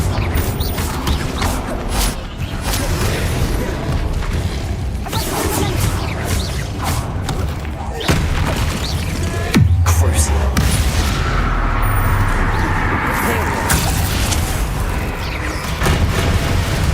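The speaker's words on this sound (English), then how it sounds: "Bombarda. Confringo." Bombarda and Confringo spell blasts from Hogwarts Legacy combat, a dense run of booms, whooshes and bursts repeating over several seconds, loud and close, with the spell names shouted over them.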